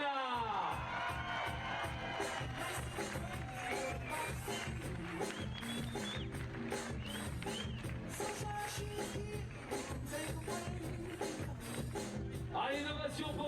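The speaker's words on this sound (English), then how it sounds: "Big applause for Alina Gedamakina." Spectators at the 2014 IFSC Climbing World Cup speed finals in Chamonix cheer and applaud a women's champion, a loud, sustained crowd roar with whoops over a steady rhythmic beat, with voices heard throughout.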